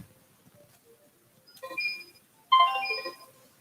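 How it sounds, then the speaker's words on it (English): Phone text message alert chiming in a quiet room, two short bright tonal bursts about a second apart, fairly close and moderately loud, with no talk over them. "I didn't switch the phone off"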